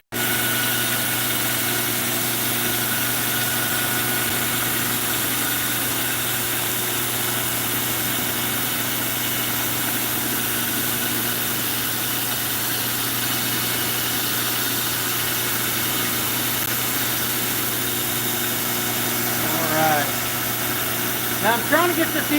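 A 2x72 belt grinder runs steadily, a continuous motor hum and belt whir while a knife is ground to even out competing grinds, with a brief rise in grinding noise near the end.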